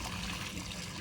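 Water pours steadily onto tomato plants in a home garden, a continuous close splashing trickle that holds level throughout with no voices.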